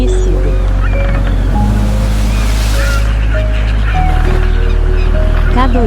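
Vast open ocean, with loud continuous surf and wind roaring close to the microphone, a low boat-like drone underneath and sustained tonal lines layered over the waves.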